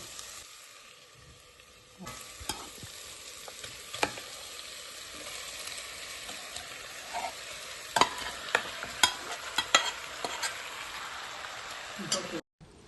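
Chicken pieces are stirred into hot masala in a pressure cooker for a Kerala-style chicken curry, with a steady soft sizzle and scraping stirs and clicks from the spoon throughout.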